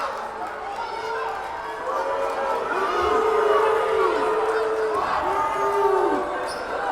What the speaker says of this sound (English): And the Braintree crowd letting the referee hear it.